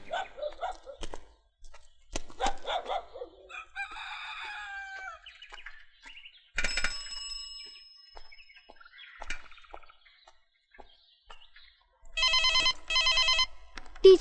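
A rooster crows and birds chirp in a quiet setting, then an electronic phone ringtone trills in two bright bursts near the end.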